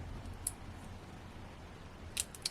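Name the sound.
scissors trimming card edges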